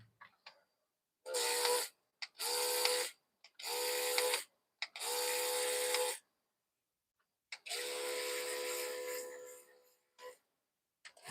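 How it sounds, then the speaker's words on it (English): A hand spray bottle mists mounted miniature orchids in a series of close hissing bursts, four short sprays, then a longer one, separated by silence. "I'm just spraying my plants."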